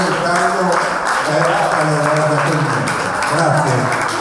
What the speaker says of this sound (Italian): un grande applauso alle compagnie del carnevale